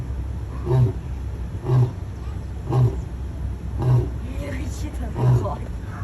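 A male lion roars in a slow series of deep, rhythmic grunting bursts, about five in a row, loud and close on safari against a steady low rumble.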